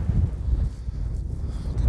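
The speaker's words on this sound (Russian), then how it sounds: "Ветер страшенный, такое дует, что просто труба достала уже." Strong southern wind of about 16 to 18 metres per second blows across a no-till winter rapeseed field, a loud continuous low roar buffeting the microphone.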